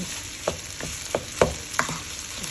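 Fried rice with pineapple and tofu sizzles in a hot pan while being stir-fried, with steady frying hiss and several distinct scraping stirs at irregular intervals.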